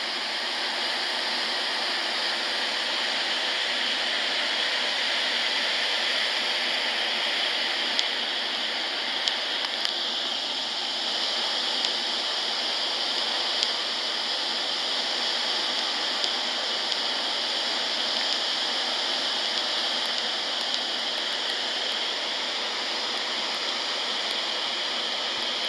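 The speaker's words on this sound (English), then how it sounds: "I love the sound of running water. Love the sound of waterfalls." Running water pours down a waterfall in a steady, full rush of white noise that holds unchanged throughout, with no talking.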